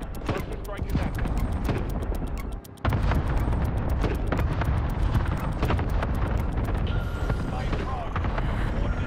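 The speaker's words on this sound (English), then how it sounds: "Transmitting coordinates for airstrike." Airstrike explosions in a video game, a continuous loud rumbling barrage of heavy blasts with a brief dip before the bombardment resumes, voices talking over the din.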